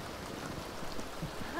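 Rain in The Sims 2, a soft, even hiss of falling drops, steady and fairly faint for a short moment.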